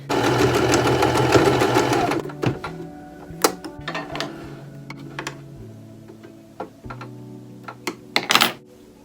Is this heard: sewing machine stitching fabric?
yes